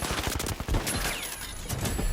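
Shots fire in a console shooter game aimed with a controller, a quick volley of sharp gunshots in the first moment followed by a dense, ringing rattle of fire.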